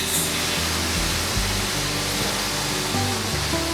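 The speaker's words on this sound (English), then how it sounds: "I'm frying one of my sausages." A sausage fries in a pan with a continuous broadband hiss and sizzle, loud and close, steady throughout the short stretch, with no voices over it.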